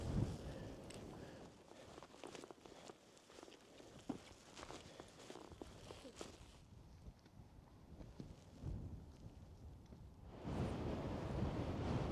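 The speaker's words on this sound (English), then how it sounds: "Wind's blowing quite hard down the valley." Hard wind gusting down a fell valley in the Lake District, a steady broadband rush that swells and surges near the end, with some crunching footsteps on a mountain path underneath.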